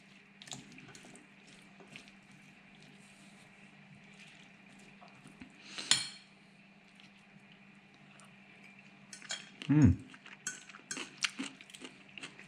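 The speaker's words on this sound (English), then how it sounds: "Have to mix it really good." Utensils scrape and clink in a bowl while a tuna and red bean salad is mixed, quiet stirring punctuated by a sharp knock near the middle and a louder burst of clatter toward the end.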